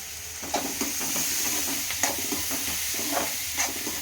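Gunta ponganalu batter sizzling and frying in a pan on a kitchen stove, a steady hiss of hot oil broken by soft clicks and scrapes as the pieces are turned, with no talking.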